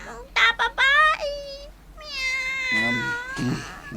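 A cat meows repeatedly, with a few short close cries followed by longer drawn-out meows, and a person's voice briefly mixing in near the end.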